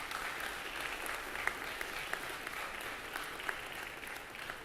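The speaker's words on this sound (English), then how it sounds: "It's your turn to give them a round of applause." Graduates at a school convocation clapping for their families, a broad, moderately distant wash of applause from a large seated crowd with a few sharper claps standing out.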